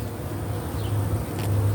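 Honey bees buzz around a hive up close, a continuous low droning hum with slight swells in loudness, no speech over it.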